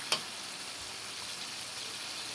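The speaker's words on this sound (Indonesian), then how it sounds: "Kita tunggu ayam ni mendidih nanti. Tunggu ayam ni keluar minyak." Quiet, even sizzling hiss of chicken frying in a pot for chicken vegetable soup, with a single sharp click right at the start.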